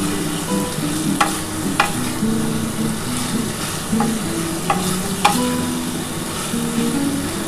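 Spice paste being stir-fried with duck eggs in oil for a Bengali egg kosa, a continuous sizzle broken by sharp scrapes and clinks of a spatula against the pan at irregular intervals.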